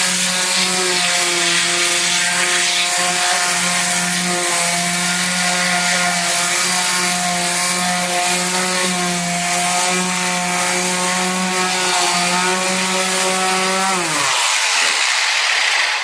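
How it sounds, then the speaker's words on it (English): A power sander works over drywall joint compound during a wall repair, giving a steady, loud motor whine with grinding friction that runs without a break before cutting off abruptly near the end. "Okay, I'm going to continue sanding."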